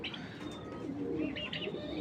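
A farm-bred racing pigeon coos softly nearby, low throaty murmurs over a quiet background with a few faint chirps.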